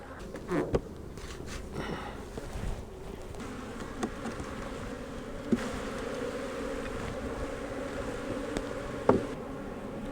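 Honey bees hum around an open, strong spring hive full of nectar and pollen, a close continuous buzz broken by a few brief handling clicks and knocks.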